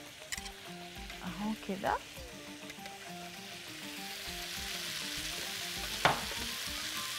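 Shrimp with seasoned cream sizzling and frying in a pan for sambousek filling, a steady close hiss with stirring scrapes, under a voice talking early on and a sharp clink near the end.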